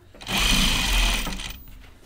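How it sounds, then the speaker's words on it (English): A sewing machine stitches a seam on a jacket, one steady mechanical whir of about a second and a half that starts and stops cleanly, close and fairly quiet with no talking. "I'm sewing just to the left of my stay stitch, which is technically kind of more on the seam line."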